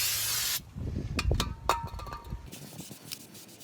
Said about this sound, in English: I want to take a rag with brake clean and clean off the rotor